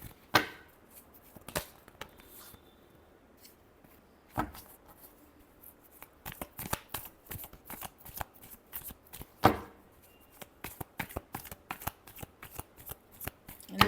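Tarot cards being shuffled by hand: irregular soft riffles and slaps, close and quiet, with sharper snaps at intervals and a denser flurry toward the end, with no talking.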